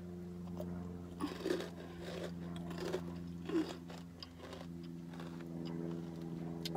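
Takis rolled tortilla chips eaten with lemon, several sharp, close crunches and bites followed by chewing, set over a low steady background hum.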